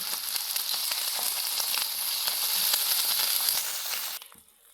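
Dried sardines (mathi) fry in a little hot oil with a bright, dense sizzle close up. It stays loud for about four seconds and then drops off sharply.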